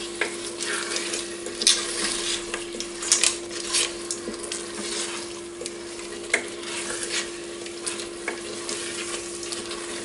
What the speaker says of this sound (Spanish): Ya le echamos el arroz, los dos cubiletes de arroz, y le damos unas vueltas para que empape y se sofría.